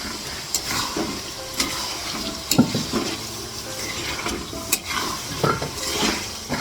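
Meat and onion fry in a hot wok with a busy sizzle broken by repeated scraping and stirring clatters from a utensil, close and fairly loud, no talking.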